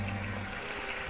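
Water poured into a pan of salted lemon pepper chicken, a brief continuous close gush of liquid with a steady rushing wash and no other sounds.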